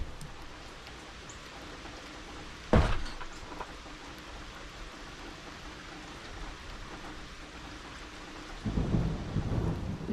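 Rain falls steadily on a front porch during a summer storm, with a sharp crack and rumble of thunder partway through and another rolling rumble near the end, fairly close.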